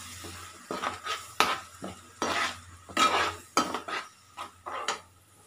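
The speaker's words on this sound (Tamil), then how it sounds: "வெங்காயம் வதங்கிட்டு இருக்கு" Onions sautéing for a pepper crab masala, with a spoon scraping and clinking against the pan in irregular strokes over a faint low sizzle, fairly close.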